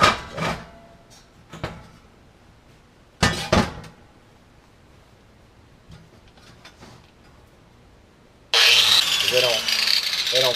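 A polyabrasive wheel on a grinder strips paint and rust from metal car ramps, bursting in loud and harsh only in the last two seconds after scattered clinks and handling noises.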